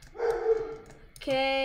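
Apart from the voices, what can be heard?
dog barking in the background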